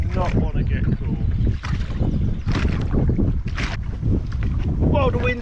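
Wind gusts across a small fishing boat out on the water during pike and perch fishing, a steady loud rush with buffeting microphone noise and faint water sounds, while someone talks over it.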